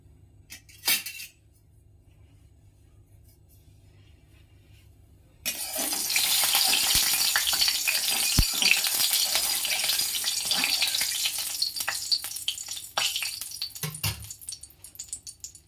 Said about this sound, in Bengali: কড়াইতে একদম সামান্য তেল দিয়েছি। এর মধ্যে শুধু হচ্ছে ঢেঁড়সটা ছেড়ে দেব।